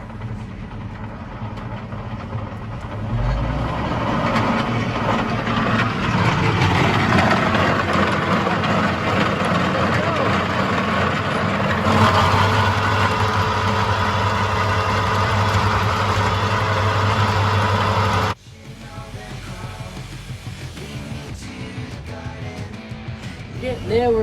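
A tractor engine runs a rotary tiller at 1800 revs in a paddock, a steady heavy drone that rises as revs come up, then drops abruptly to a quieter idle near the end.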